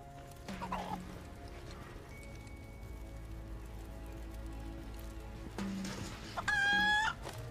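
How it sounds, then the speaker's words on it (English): Chickens in Final Fantasy VII cluck and squawk against a steady ambient game background, with a louder burst of rising squawks near the end. "Holy crap, ADHD chicken."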